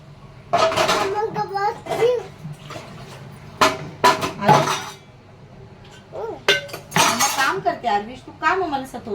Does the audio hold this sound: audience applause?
no